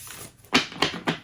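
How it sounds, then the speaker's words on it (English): Three quick crisp riffling bursts of tarot cards being shuffled, close and fairly quiet, spaced about a quarter second apart. "I'm not getting a good shuffle on these cards."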